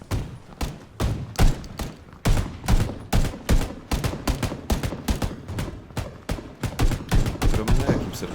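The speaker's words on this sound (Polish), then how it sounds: "To jest jednak minuta walanki, że wszyscy, wszyscy strzelają." Rapid bursts of gunfire in PlayerUnknown's Battlegrounds crackle in an irregular rhythm, loud thumping shots overlapping one another throughout.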